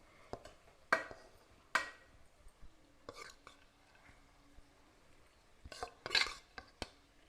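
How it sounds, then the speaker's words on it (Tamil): A spatula stirs fried rice in a pan with soft, scattered scrapes and clinks, a few sharper knocks standing out against a quiet background. "அதாவது இந்த அரிசி உடையாத அளவுக்கு, சாதம் உடையாத அளவுக்கு கலந்து விட்டுக்கோங்க"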